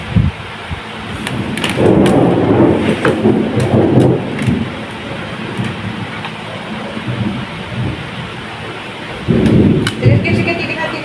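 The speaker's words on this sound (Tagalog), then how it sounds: "Ba't di ka sanay sa kulog?" Rolling thunder from a storm rumbles in long low swells, surging loudly near the start and again near the end, with a person speaking intermittently over it.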